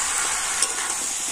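Fried pumpkin and potato going into a hot pan of spiced masala, a bright continuous sizzle with a small crackle partway through, close and alone.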